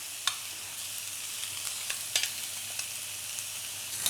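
Peppers and red onion cooking on a hot, dry griddle pan with no added oil, a soft, low sizzle with scattered sharp ticks and pops, fairly quiet and without talk.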